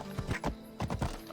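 Quick hoofbeats of a horse in Assassin's Creed Odyssey clatter in a brisk galloping rhythm, a few hard thuds close by in a short burst.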